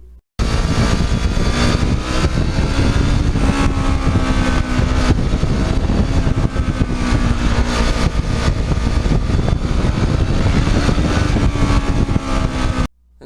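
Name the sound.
Kawasaki Ninja motorcycle riding through the gears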